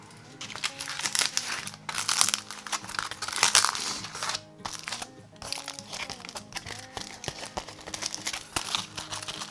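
A small aluminum foil basket holding dried wood hardener residue crinkles and crumples continuously in the hands, with close, irregular crackling bursts and no talk.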